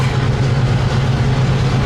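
A freight train passes on the Needles Subdivision as a loud, close, continuous rumble with a strong low engine drone and steady rolling rail noise, with no talk over it.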